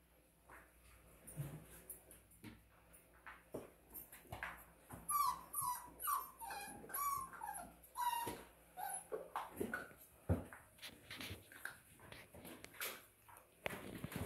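Newfoundland puppies whimper and yip in short, high-pitched bursts while eating milk bone treats, with some soft chewing noises in between, close by and fairly quiet.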